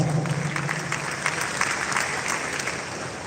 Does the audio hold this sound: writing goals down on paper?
no